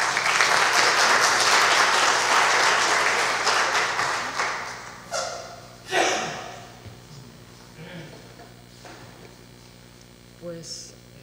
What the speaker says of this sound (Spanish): Así que nada más que pedirles un aplauso de bienvenida y de agradecimiento a Belén.